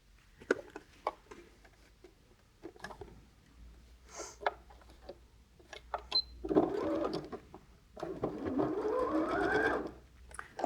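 A home sewing machine stitches through thick layers of quilt fabric in two bursts, a short run then a longer steady one, close and fairly loud, with quiet handling clicks before.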